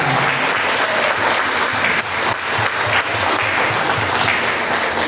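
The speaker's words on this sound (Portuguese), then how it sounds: "Agora eu te convido a dar a mais forte salva de palmas ao Senhor Jesus" A church congregation gives loud, sustained applause during a service, a thick continuous roar of many hands clapping close and full throughout, with a faint tone humming beneath.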